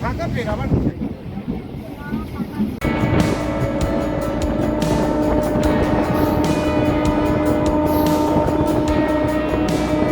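A local train bound for Panskura in Purba Medinipur runs with a loud, constant rumble and rhythmic wheel clatter, heard from inside the carriage beneath passengers' voices.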